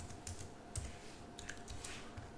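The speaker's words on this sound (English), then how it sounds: "type in INXI again for this local machine" Command being typed on a computer keyboard, quiet rapid clusters of key clicks with short pauses, close but faint over a low steady hum.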